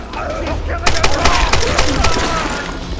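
Rapid bursts of video game gunfire crackle through a Tomb Raider firefight, dense overlapping shots with a low rumbling backdrop, loud and continuous over a few seconds.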